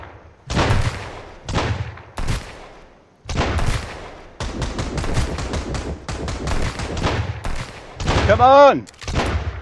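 Gunfire in Sunkenland, heavy close shots in separate bursts and then a rapid run of repeated firing, loud and punchy, with someone briefly shouting.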